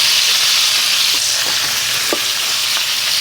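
Steak and bacon fry in a pan over high heat, giving a steady loud sizzle with crackling pops and occasional spatters throughout.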